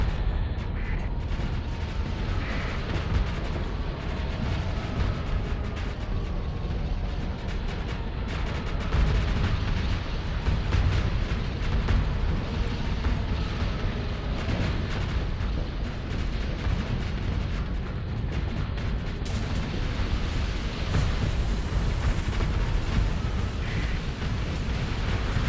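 Missile explosions from a Starsector space battle: a dense, continuous rumble of overlapping blasts and bursts, loud and steady throughout with no clear gaps or voices.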